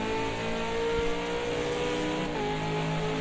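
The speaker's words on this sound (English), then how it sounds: "Listen to that motor scream down that straightaway there" A V8 race car engine of the Australia V8 series screams down the straightaway at Road America, a loud, steady high-pitched roar that holds continuously with a slight pitch shift partway through.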